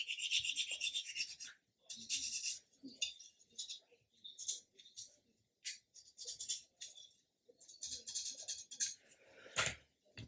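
Sandpaper of 400 grit rubs back and forth over a small plastic part of a 1/35 scale Hobby Boss GMC Bofors 40mm gun model, giving close, dry rasping strokes in steady bursts separated by short pauses.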